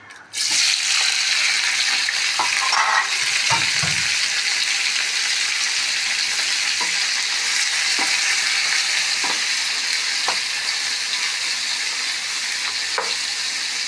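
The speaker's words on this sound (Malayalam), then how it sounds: "അതിലേക്ക് ഞാൻ ഉപ്പിട്ട് പിന്നെ മഞ്ഞൾപ്പൊടി ഇട്ട് വേവിച്ച ചിക്കൻ ഇടാം" Boiled chicken drops into hot coconut oil with salt and turmeric and sets off a loud, steady sizzle that continues throughout, with a few scrapes and knocks of stirring near the start.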